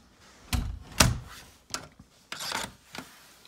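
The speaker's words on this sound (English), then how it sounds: "I'm gonna shut this door because it's cold" Door being shut in a mountain trail shelter, close wooden thunks and scraping rubs in separate bursts, a heavy knock, then grinding drag and a final soft tap.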